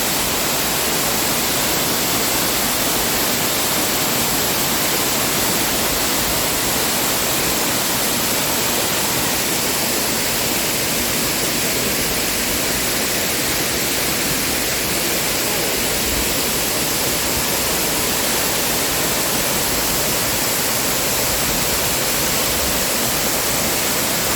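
Sawan Noi waterfall in Mae Sariang pours in a steady, dense hiss of falling water, loud and unbroken throughout with no voices.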